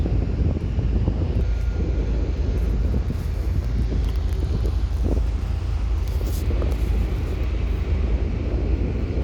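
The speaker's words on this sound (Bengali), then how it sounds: "হালকা বৃষ্টি আছে অনেক বাতাস" Strong wind at a seaport roars and buffets the microphone in a loud, constant low rumble, with a steady whooshing drone underneath.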